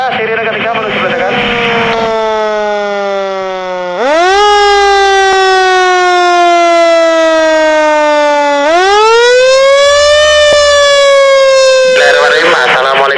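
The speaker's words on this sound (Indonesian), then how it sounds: "sirine ketiga menuju ledakan" A loud civil-defence-style warning siren wails at a dam spillway construction site before blasting, rising and holding in two long sweeping cycles, with someone speaking over the start and end.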